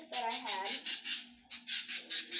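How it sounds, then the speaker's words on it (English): A pet bird gives a run of loud, harsh, close squawks in quick repeated pulses, with a voice heard briefly alongside. "Shut up! This is my oldest bird, Jewel."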